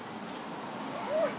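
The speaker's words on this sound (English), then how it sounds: "What are you barking at?" A single short, high-pitched yip from a dog, close by, rising out of a quiet room background near the end.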